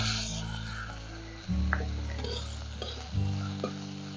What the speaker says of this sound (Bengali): এখন এই বাটা মশলাটা ওর মধ্যে দিয়ে একটু ভেজে কষে নেব